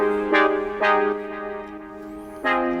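Chillwave synth chords sound solo, a sustained harmonic pad with three bright attacks re-striking the chord, warm and steady with no voices.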